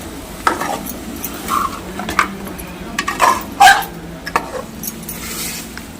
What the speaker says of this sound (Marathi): आता पूर्ण मिक्स करून घ्या